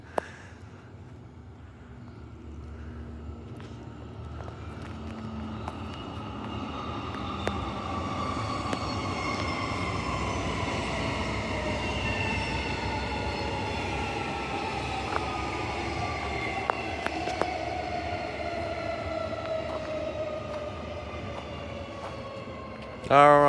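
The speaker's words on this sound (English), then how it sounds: "We have the 6-car train coming in." A six-car Ellenbrook Line train pulls into the station, heard from the tram platform as a long building rumble with gliding whining tones and scattered clunks, swelling louder at the very end.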